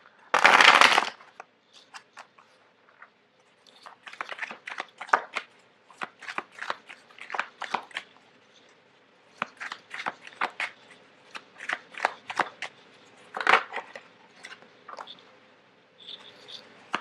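Tarot cards are shuffled on a hard surface, starting with one loud riffle and followed by many quick crisp slaps and flicks in irregular bursts, close and fairly quiet, with no talking.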